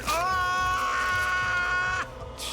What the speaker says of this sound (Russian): Это он единственный, кто орет